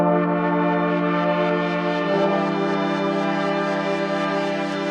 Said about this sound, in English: Let's bring the mix in for our reverb.